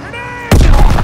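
A grenade goes off in the Call of Duty WWII campaign: after a brief moment of quiet ringing tones, a sudden loud, close blast erupts and rumbles on with a heavy, broadband roar.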